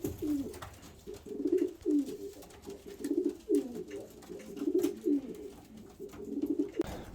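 Pigeons coo in a loft, a steady series of soft, low rolling calls repeating in close succession, near and clear over a faint background hiss.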